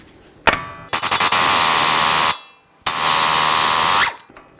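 Two long bursts of a loud, high-pitched power tool whirring near as a 32mm socket removes an axle nut on a Dodge Journey, each a second or more, with a sharp clank before the first.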